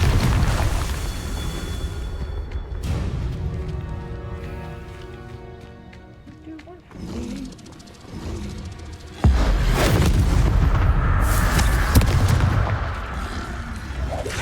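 Confringo blasting spell explosions in Hogwarts Legacy, booming blasts with a big burst near the end amid loud combat effects and music, close and forceful.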